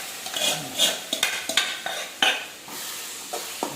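Spinach stirred in a frying pan with crushed peanut, crisp scraping strokes and light sizzles in an irregular rhythm, close and moderately loud.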